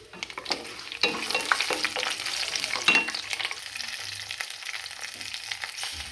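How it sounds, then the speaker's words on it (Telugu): Dried red and green chilies, peanuts and cumin fry in hot oil as a tempering for a coriander-tomato chutney, giving a steady close sizzle with occasional stirring scrapes. "పోపు బాగా వేగిపోయిందండి."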